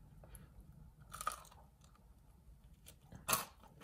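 Crispy crust of homemade sourdough bread being chewed: a few sharp, close crunches, with a louder bite near the end, and soft chewing in between on a quiet background.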